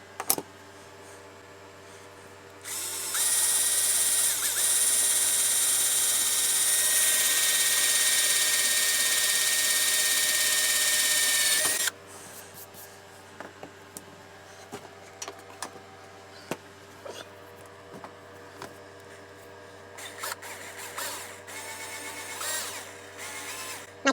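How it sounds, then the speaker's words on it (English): A power drill in a leather workshop boring into a workpiece, starting with a click and running as a loud, steady high whine for about nine seconds before stopping abruptly, followed by faint clicks and shuffling. "Making sure that the drill is square to the work that way and that way by watching the initial cut."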